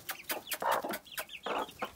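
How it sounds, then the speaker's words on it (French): A hen clucks repeatedly at close range, a quick series of short rhythmic clucks over soft background noise. "Une poule."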